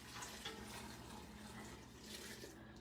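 Water pours steadily into a pot of vegetable soup with canned tomatoes in a home kitchen, a faint, continuous splashing stream with no talking.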